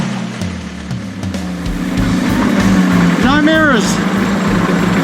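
A jungle-built 4x4 off-road vehicle's engine cranks, catches and settles into a loud, steady rumbling idle close by, with someone speaking briefly over it.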